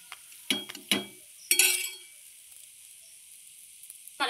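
Paratha frying in a hot pan, with short bursts of sizzle and a clink or two of a utensil. The bursts come in a few separate spurts, then the pan goes quiet with only faint hiss.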